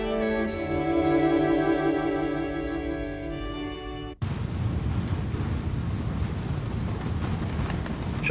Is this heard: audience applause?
no